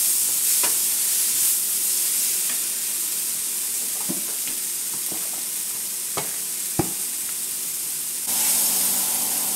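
Spice paste of coriander powder, garam masala and a little oil being mixed in a pan, a soft steady hiss with scattered scraping taps of a spoon, close by and without voices.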